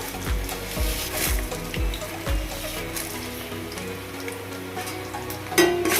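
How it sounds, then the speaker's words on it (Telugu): Peanuts, chana dal, mustard seeds and urad dal fry in hot oil for gongura rice, with a close, steady crackling sizzle and a few dull knocks early on. "పల్లీలు వేగుతుండగా పోపులు ఉన్నాయి కదండి పచ్చిశనగపప్పు ఆవాలు మినపప్పు వేసుకుంటున్నా"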